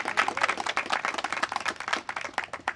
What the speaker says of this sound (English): Give yourself a round of applause here.